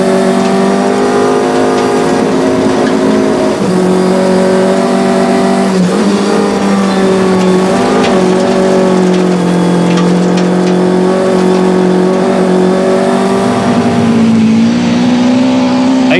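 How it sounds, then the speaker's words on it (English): Total Bridgestone Nissan rally car at the 2001 Rally of South Africa, its engine screaming at high revs from inside the cabin, loud and sustained with pitch rising and dipping through gear changes for the whole stretch. "There's no over-revving this engine."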